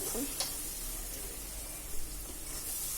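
Chillies and yogurt stirred in a hot pan for a chutney, with a continuous soft sizzle and occasional spoon scrapes and taps, fairly close.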